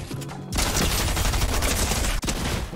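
Shotgun gunfire in a video game, a dense continuous barrage of rapid loud shots close up, with a brief gap near the end.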